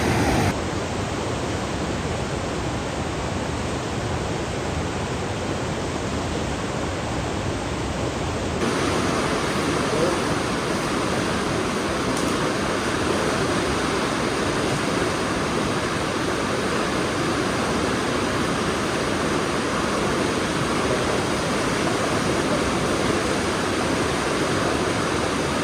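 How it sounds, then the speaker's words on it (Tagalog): A strong, deepened river current rushes continuously near and loud as a broad, steady roar of flowing water with no voices over it. "Mas lumalim po ngayon. Mas lumakas ang agos."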